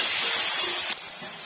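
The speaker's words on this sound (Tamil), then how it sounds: "இந்த ஸ்டேஜில் தக்காளி சேர்த்துக்கலாம். நல்லா வதங்கட்டும்." Tomatoes sautéing with onion and garlic in a pan for a cashew gravy, a continuous bright sizzle that stays loud and then drops a little partway through.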